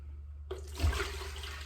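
Distilled water is poured into a container for making deer tallow soap. After a brief quiet moment, a steady, close rush of liquid begins and keeps flowing.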